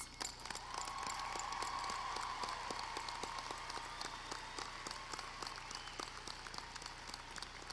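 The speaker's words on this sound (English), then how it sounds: "Let's give them a round of applause." Applause from a commencement audience recognizing faculty, a continuous wash of many hands clapping at moderate distance, fairly quiet, with a faint tone sustained underneath.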